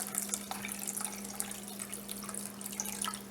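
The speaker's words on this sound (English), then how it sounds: "I'll just bring some water in. We'll cover our vegetables." Water runs steadily into a soup pan full of vegetables, a continuous splashing pour with scattered drips, close and moderately loud, no talking.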